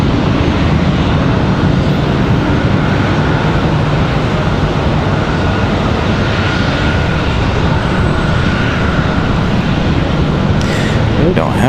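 A FedEx Boeing 767 passes at a busy airport, its engines a loud, broad, unbroken roar that holds steady throughout the stretch.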